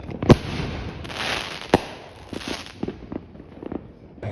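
Backyard Fourth of July fireworks shells launch and burst: two sharp loud bangs a second and a half apart, followed by a scatter of smaller crackling pops and a steady hiss of outdoor background.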